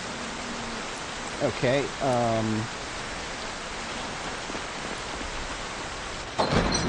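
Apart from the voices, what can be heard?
rain falling in the video game Project Zomboid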